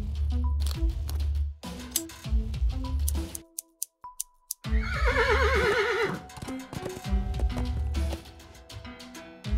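A horse whinnies in the video game Willy Morgan and the Curse of Bone Town, a loud wavering neigh rising out of clip-clopping hooves and game sound effects, with short ticking clicks around it.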